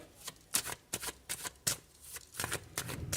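A deck of tarot cards is shuffled close up, with repeated quick riffling flutters and soft slaps in an uneven rhythm, clear and fairly loud, with no speech.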